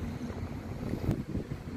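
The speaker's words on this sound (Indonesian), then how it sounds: "Tuh ini ada angin, tapi anginnya panas." Hot wind blows outdoors in Saudi Arabia, a steady, broad rushing noise with microphone buffeting that swells slightly near the middle.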